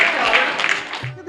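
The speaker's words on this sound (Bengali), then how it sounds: "সবাই একটু হাততালি দিন।" A crowd claps briefly at a neighbourhood welfare association's Rath Yatra celebration, a short burst of applause mixed with voices that quickly trails off.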